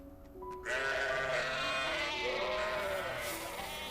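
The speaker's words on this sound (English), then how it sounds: "Those are big ass sheep." Several sheep bleat in overlapping, wavering calls, fairly loud and close, continuing steadily after a brief quiet start.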